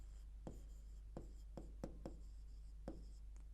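A pen writes on paper or a board during a maths lesson on sets, making a series of short, quiet scratching strokes at an uneven pace over a low background hum.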